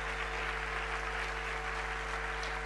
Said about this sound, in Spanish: ¿Cuántos pueden aplaudir por eso?